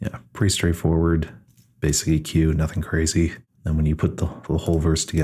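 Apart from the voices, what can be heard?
No everyday noise stands out behind the speech.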